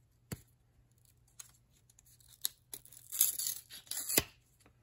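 Stuck 1994 Pinnacle baseball cards are pulled apart by hand with short, close papery rips and tearing. Isolated snaps come first, then a longer burst of tearing near the end. No voice is heard.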